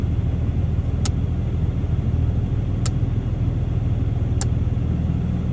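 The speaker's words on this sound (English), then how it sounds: "You can actually hear the different sound of the truck as you do that." Diesel engine of a RAM 2500 Laramie Megacab pickup with a G56 manual transmission and deleted emissions system, heard from inside the cab as a steady low idle rumble with three sharp clicks.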